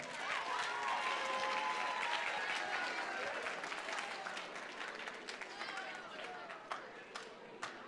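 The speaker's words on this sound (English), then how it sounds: "So let's clap it up and welcome him to the stage" A school crowd at a Black History Month poetry event claps to welcome the principal to the stage, a dense, steady applause that slowly thins toward the end, with scattered cheers and voices mixed in.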